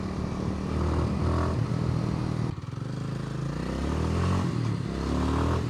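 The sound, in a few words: Kawasaki W230 motorcycle engine while riding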